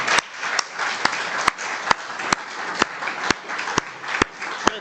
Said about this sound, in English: I think we can give Shamabeel a round of applause.